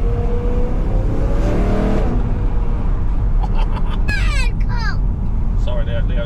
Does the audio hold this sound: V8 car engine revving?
yes